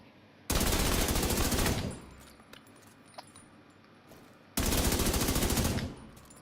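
An assault rifle fires in The Division 2, letting off two long, loud bursts of rapid automatic gunfire with a quieter gap of faint clicks and ticks between them.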